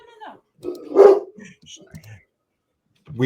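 A pet dog barks nearby in a couple of sharp, close bursts, mixed in with people talking in the room.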